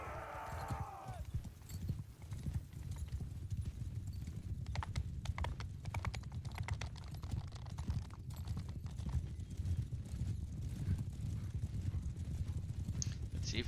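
Cavalry horses gallop in Mount & Blade II: Bannerlord, a dense, steady drumming of many hooves with a brief whinny at the start. A voice talks faintly under the hoofbeats.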